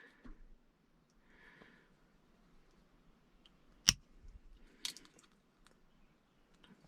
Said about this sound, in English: Then you're going to need to cut the tip of that off.